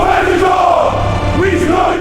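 An angry crowd of men gathering in dark streets outside Lot's house, a loud continuous roar of many shouting voices with swelling, wavering yells layered together.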